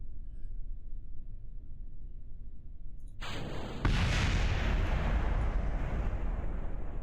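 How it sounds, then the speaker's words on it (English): A rocket part blowing up during a launch-site test in Kerbal Space Program: a low rumbling hiss of engine noise gives way to a sudden bright burst and then a loud, sustained roaring explosion wash. "I feel like that shouldn't explode"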